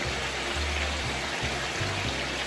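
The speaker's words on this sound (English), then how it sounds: "I've got some cornstarch mixed with water. Just gonna add this because I want it to be saucy." Cornstarch and water mixture poured into a pan of spicy beef and asparagus, giving a soft, steady watery trickle with low bubbling underneath, close and fairly quiet with no talking.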